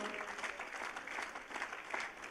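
A church congregation claps continuously at a steady pace during a Pentecostal sermon, sounding moderately distant and even throughout.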